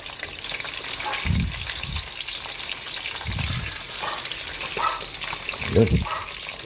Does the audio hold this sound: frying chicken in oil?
yes